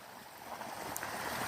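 Waterfall heard up close beside a bush, a steady broad rush of falling water filling the space evenly without pause, no voices over it.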